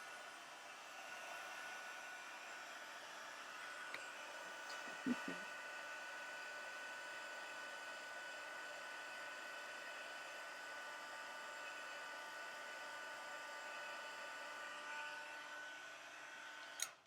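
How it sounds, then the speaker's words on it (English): A crafting heat tool blows hot air in a steady, even whoosh that runs unbroken for about seventeen seconds, with a couple of faint clicks partway through and a brief knock right at the end. "I'm going to grab my heat tool."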